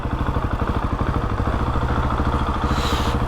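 A motorcycle engine chugging at low speed as the bike rolls into a motorcycle car park, a close, loud rhythmic thumping idle-like putter that stays steady with a brief brighter hiss near the end.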